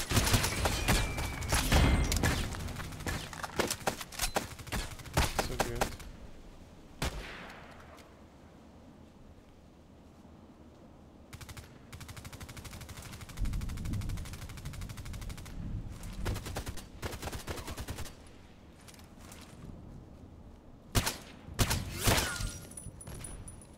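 SKS sniper rifle gunfire in a video game, set at an old sawmill: loud, sharp shots crack in quick succession at the start, then quieter stretches broken by further bursts of shots and impacts toward the end.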